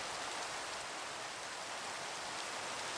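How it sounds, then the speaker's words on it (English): Steady rain sound effect from a video game, a soft continuous hiss of falling drops with no other sounds, constant and even. "just so like the rain sounds don't cover everything"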